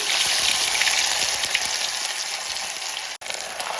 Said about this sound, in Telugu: అల్లం వేసిన తర్వాత ఒకసారి మిక్స్ చేసుకొని ఇది పచ్చివాసన పోయేంత వరకు ఫ్రై చేసుకోవాలి